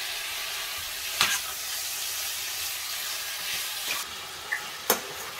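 Meat pieces sizzling as they go into melted fat in a pan, a steady close frying hiss broken by a few sharp clacks of utensils, with no one talking.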